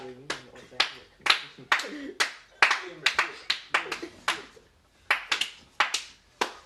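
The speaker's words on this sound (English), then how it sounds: "I think I ought to get a clap" A few people clap in irregular bursts of sharp, close hand claps, pausing briefly between rounds, with some voices mixed in.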